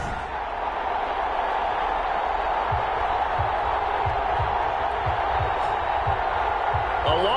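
A stadium crowd roars steadily in an NFL video game at a Seattle Seahawks versus Carolina Panthers matchup, a dense unbroken wash of cheering with a run of soft rhythmic thumps partway through.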